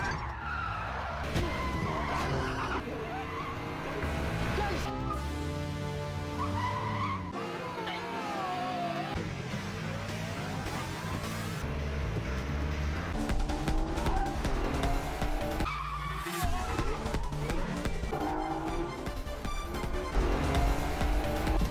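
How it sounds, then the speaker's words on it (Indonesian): Tires screech and skid through a film car chase, with squeals sweeping up and down under engine roar and a dense, loud soundtrack that runs continuously for about twenty seconds. "memaksa Chang Un harus terus memacu mobilnya dengan cepat dan lincah untuk menghindari mereka"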